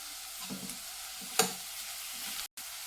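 Onion and tomato frying in a spice tempering for a dried shrimp dish, a soft steady sizzle with a few stirring scrapes and one sharp clink, heard close and without talk.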